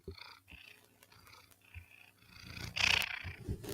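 A cat purrs softly indoors with a low, faint pulsing rumble, followed by a louder rustle or breathy burst near the end.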